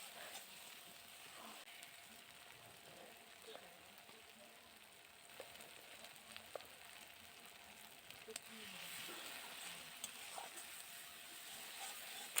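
Spice paste for a chicken feet curry fries quietly in a pan, a faint, steady hiss and crackle with occasional soft stirring scrapes, close by and without voices.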